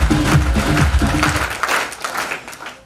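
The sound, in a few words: audience applause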